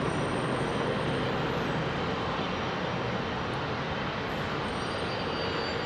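Airliner powered by General Electric GE90 engines at Heathrow, a steady, loud broadband jet roar that holds constant and close throughout with no pauses.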